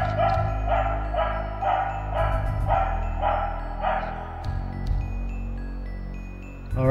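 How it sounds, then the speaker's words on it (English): A dog barks repeatedly in the Trick & Treat horror game, a steady run of yaps over a constant low music bed, with no talking. "Okay, doggy, I know you're there. Stop barking."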